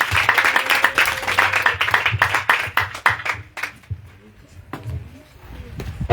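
A church congregation at a worship service in Korhogo claps and cheers, with loud, dense applause for about three and a half seconds. It then thins to a few scattered claps, with voices around it.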